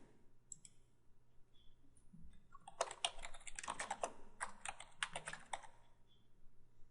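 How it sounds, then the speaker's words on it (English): Typing on a computer keyboard, a quick close burst of clicking keystrokes in a quiet room, with a few isolated clicks before and after the run. "Type in the title of the link"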